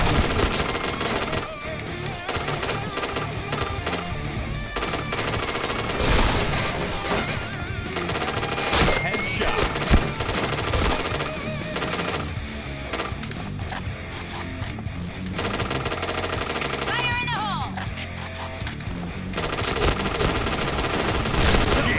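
Rapid machine-gun bursts and single shots ring out in an online shooting game, near and loud, coming in repeated volleys with brief gaps for over twenty seconds.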